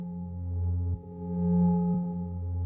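Synth tone pushed through a saturation drive effect, a steady buzzy sustained note with rich harmonics, swelling slightly in the middle and briefly dipping twice, alone with no voices.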